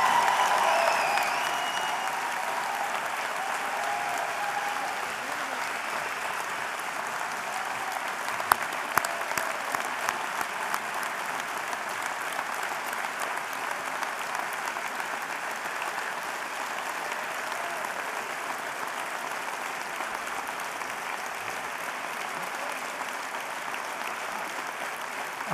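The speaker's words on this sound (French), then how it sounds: "Nous pouvons maintenant applaudir tous ces étudiants qui ont obtenu la plus grande distinction" A ceremony audience applauds graduating medical students at the Université catholique de Louvain, a long sustained wash of clapping from a large hall crowd, even and moderately loud, with a few sharper claps standing out midway.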